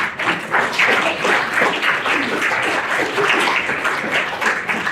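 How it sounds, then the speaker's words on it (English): An audience at a university library author award evening claps together in a dense, steady round of applause, close and full throughout with a few thumps mixed in. "why don't you all give yourselves a round of applause"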